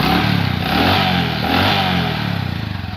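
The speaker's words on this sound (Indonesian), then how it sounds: "Ini mesinnya halus teman-teman" A motorcycle engine, recently fitted with a new piston yet still smoking, idles close by with a steady, loud, rhythmic chug throughout.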